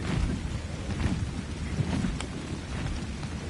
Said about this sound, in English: I love the rain, so I usually wouldn't be annoyed at it